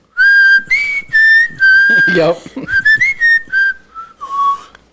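A woman whistles a melody in a recorded music duo, clear sustained tones with short phrases, with a brief burst of another sound midway and a voice briefly speaking near the end.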